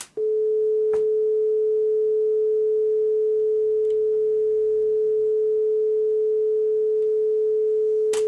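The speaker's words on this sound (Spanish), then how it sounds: "este vendría a ser los 432 hercios" A pure, steady 432 Hz sine tone holds at one pitch for several seconds, loud and unchanging, with a few faint clicks in the background.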